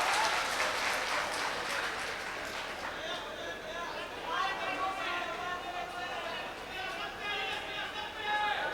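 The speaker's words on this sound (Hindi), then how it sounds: "एक बार ताली बजाइए" An audience at a poetry recital claps steadily in sustained applause, a dense patter of many hands with faint voices mixed in, moderately loud and continuous.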